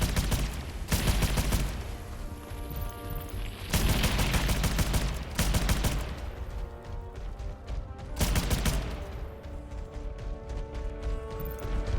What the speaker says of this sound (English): I have to look at the cannons to make sure they're not overheating.